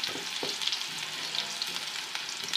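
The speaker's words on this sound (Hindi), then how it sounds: "प्याज हमने बारीक काट कर जो है वो इसमें डालनी है, और बस ये हम तड़का इसका लगाएंगे" Finely chopped onion fries in hot fat for a dhaba-style dal tadka, giving a steady close sizzle with small pops and crackles and no talking.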